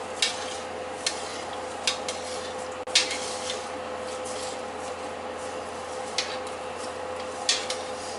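Macaroni meat sauce simmering in a pot gives a steady low bubbling hiss with faint ticks and occasional soft clinks of a utensil against the pan, close and continuous.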